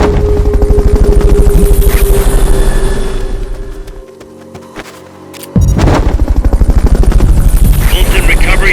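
Helicopter rotor thumping in the video game Metal Gear Solid: Peace Walker, loud and steady, dropping away for a moment before returning at full strength, with gunfire-like bursts mixed into the dense game noise.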